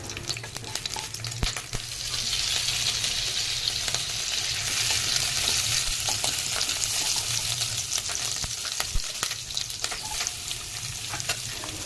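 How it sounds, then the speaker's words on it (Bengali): Chopped onions with green chillies and cumin frying in oil in a wok, a constant bright sizzle close by, punctuated by occasional sharp spatula clicks. "পেঁয়াজগুলো লাল লাল করে ভেজে নিলাম।"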